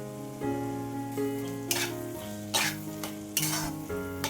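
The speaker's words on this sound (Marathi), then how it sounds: "आता हे छान मिक्स करून घेऊया" Tomato chutney with chopped coriander stirred in a hot pan: a close, steady sizzle with several bursts of spoon scraping and stirring, over a faint background of sustained music-like tones, no talking.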